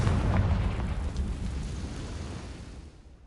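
A Confringo fire spell explosion in Hogwarts Legacy, a loud broad rumbling blast that slowly decays over a few seconds, with no talk.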